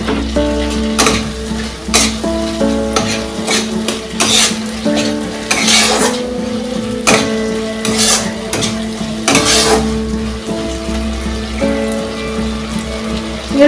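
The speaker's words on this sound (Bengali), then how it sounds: "এরপর আমি কাঁচা লঙ্কা চেরাটা দিলাম।" Slit green chillies fry in spiced mustard oil for a fish curry, giving a continuous sizzle broken by repeated sharp scrapes and clinks of a stirring spoon against the pan, loud and close, with no voices.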